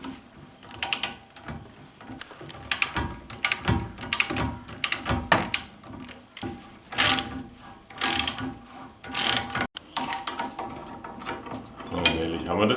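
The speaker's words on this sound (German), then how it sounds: "Die Schrauben sind verklebt, deshalb drehen die sich lange sehr schwer." Glued, stiff bolts being loosened on the rear brakes of a Peugeot 206 CC, a ratchet wrench clicking in repeated bursts of ratcheting with short pauses between strokes, close and fairly loud.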